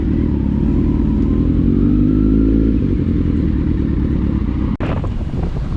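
Kawasaki Z900 and Z800 motorcycles drag racing roar loudly and close, a continuous engine drone with wind buffeting and one sharp clatter near the end.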